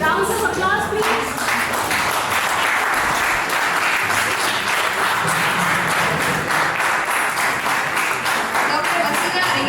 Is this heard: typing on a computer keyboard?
no